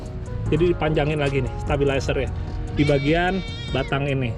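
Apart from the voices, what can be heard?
goat bleating while crossing the road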